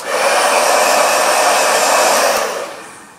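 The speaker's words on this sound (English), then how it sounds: "This is a Keratin Complex Heat Therapy Blow Dryer." A Keratin Complex Heat Therapy blow dryer runs loud and steady, close up, with a broad airy whoosh that holds for about two and a half seconds and then starts to fade. No one speaks.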